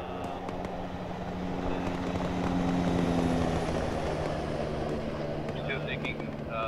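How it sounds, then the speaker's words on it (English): A helicopter flaring to land in ArmA 3, a steady loud rotor drone with a low engine hum swelling slightly in the middle, while people talk over it. "Chopper coming in west, flaring."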